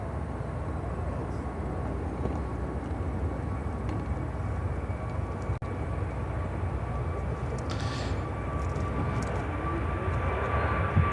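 A JetBlue airliner passes at Chicago O'Hare airport, a steady, fairly distant engine rumble and hiss that holds through the whole stretch without talk.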